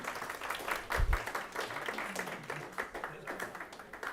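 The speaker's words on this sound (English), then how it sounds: "Hey, give him a round of applause," Committee members applauding a 15-year-old speaker at an education subcommittee hearing, a modest patter of clapping from several people heard under ongoing talk.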